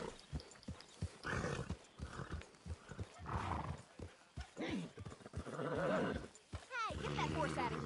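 A horse in Red Dead Redemption 2 neighs and whinnies near the listener, with clopping hooves and scattered bursts of other noise, while a person talks over it.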